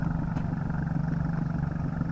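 A tractor engine chugs steadily as it drives through a flooded rice paddy, a close, continuous pulsing mid-pitched drone with no one talking.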